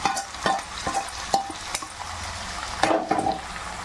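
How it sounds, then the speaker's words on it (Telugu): A tempering sputters and fries in hot oil while a utensil stirs it against the pan, with sharp intermittent scraping strokes over a soft sizzle, close and moderately loud, with no voices. "మనం వేపుతూ నూనెలో బాగా వేపుతూ ఉండాలండి"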